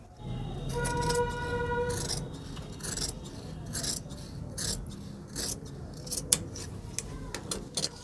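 Scissors cutting cloth for the sleeve of a men's kurta, with repeated close rasping snips in an uneven rhythm, loud and near, and faint background sounds but little talk.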